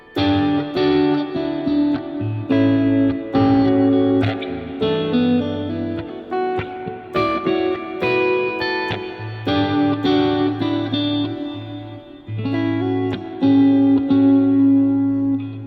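An Ibanez AZ electric guitar plays chords and notes through heavy effects, sounding distorted and shimmering, with short pauses between phrases.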